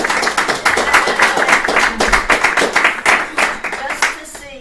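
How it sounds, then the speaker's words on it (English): Audience at a house concert clapping for Joyce, a brisk round of close hand claps from a small crowd, steady and lively for several seconds before tapering off. "Everybody give Joyce a round of applause."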